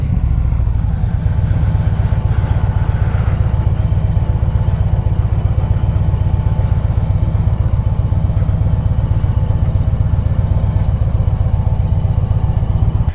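A small Honda Grom motorcycle rides along a neighbourhood street near a landslide area, its single-cylinder engine giving a continuous close, clattering putter that stays loud and even throughout.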